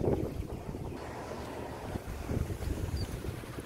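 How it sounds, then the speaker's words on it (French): Loud, gusty wind buffets the microphone outdoors beside a BMW M4 Competition F83, a steady low rumble with surges that swell and ease over a few seconds, with no voices. "là on est obligé de faire avec le vent"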